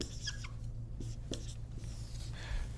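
Pen or marker writing on paper or a board, close and quiet: short scratchy strokes in uneven bursts over a low steady hum.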